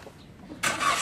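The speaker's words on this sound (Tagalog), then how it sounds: "ipa-start ko naman itong makina" A Toyota Rush engine cranks and fires up partway through, jumping abruptly from near-quiet to a loud, steady running roar for the remaining moments.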